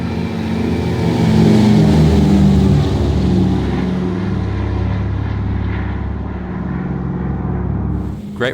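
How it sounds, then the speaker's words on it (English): Twin piston engines of a Heinkel He 111 bomber taking off in a flight simulator, a loud, continuous droning roar that swells early, then holds steady and eases slightly, with no talking. "Tail dragging piston airplanes are tricky airplanes to manoeuvre."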